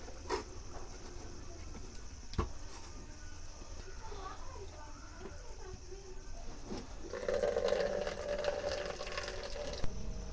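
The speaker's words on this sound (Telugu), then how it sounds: "ఇప్పుడు మనం ఈ నీళ్ళని వాల్చుకోవాలి, ఈ నీళ్ళు తీసేయాలన్నమాట." Water is poured off boiled curry ingredients, building into a steady splashing stream near the end after quieter kitchen rustling, with a voice faintly present.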